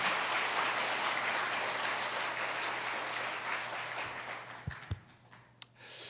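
A church congregation at a revival meeting claps in praise, a sustained crowd of hands over a low steady hum that fades after about four seconds, leaving a few sharp, isolated claps.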